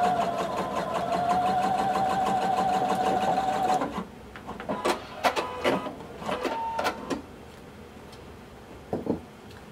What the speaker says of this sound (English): we want to sew right on that crease